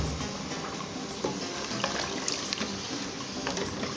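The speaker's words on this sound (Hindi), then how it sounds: "मैंने भून लिया है और अब इसमें पानी डाल दिया।" Water is poured into a pan of sautéed black chickpea curry, a steady close splashing and trickling of liquid that continues evenly throughout.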